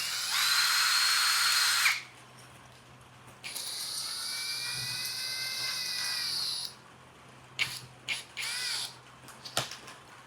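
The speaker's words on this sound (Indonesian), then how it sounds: "selanjutnya kita pakaikan auger bit 3/4 inci atau setara dengan 19 mm ya untuk diameternya" A Lucid LX-50 Gen 3 cordless drill fitted with a 3/4-inch, 19 mm auger bit whines loudly in two sustained high runs, followed by a few short bursts and clicks near the end.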